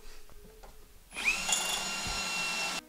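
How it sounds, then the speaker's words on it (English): A Ryobi power drill whirs up suddenly and runs steadily at high speed for a couple of seconds, close by, drilling out panels on a wrecked 2016 Porsche Cayman, then stops abruptly. "I think what I'm going to do now is start drilling some things out."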